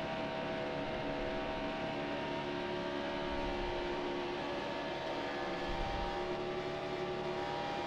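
A race car engine roaring steadily at Talladega in NASCAR Heat Evolution, a constant droning hum that holds at one level throughout without voices.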